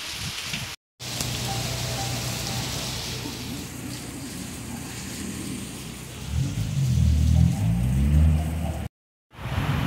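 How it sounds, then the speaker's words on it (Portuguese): Light rain falls in the Sertão at Picuí, Paraíba, a steady close hiss throughout, with a low rumbling engine swelling beneath it in the last few seconds. "Uma chuvinha agora em Picuí, na Paraíba. Chuvinha boa."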